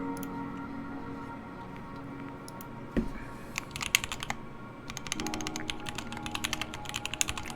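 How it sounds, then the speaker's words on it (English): Typing on a rebuilt Bauer mechanical keyboard fitted with a new plate and switches, close-up clacky keystrokes in uneven bursts and flurries, one sharper thock partway through, with no talking. "we're just going to anxiously await Chewy's typing sound test"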